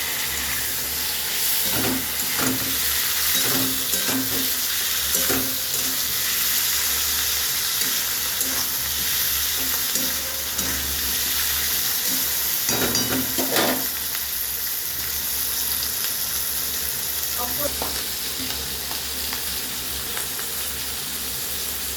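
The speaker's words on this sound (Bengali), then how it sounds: "আদা টমেটো দিয়ে তিন চার মিনিট নেড়ে চেড়ে" Ginger and tomato frying in a pan, a continuous loud hissing sizzle with repeated scraping and stirring knocks in irregular clusters throughout.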